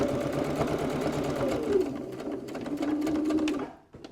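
Sewing machine stitching slowly around the curve of a wallet made with a multi-function die set, a steady continuous motor hum with needle chatter, pausing briefly near the end.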